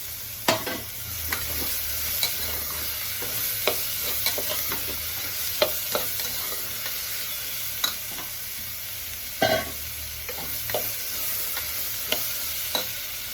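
Chopped beans, carrots, peas and cauliflower stir-fry in a pan, with steady close sizzling broken by sharp clicks and scrapes of a utensil stirring at irregular intervals.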